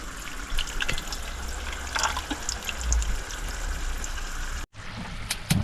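Running tap water splashes and trickles as rice is washed and drained by hand in a camper van sink, steady and close, with a brief cutoff near the end before the flow resumes.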